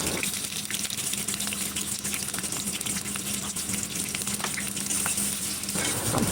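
Onions frying in hot oil in a wok (kadai), a steady, dense sizzle with faint scraping and stirring clicks throughout, close and even in loudness, with no talking.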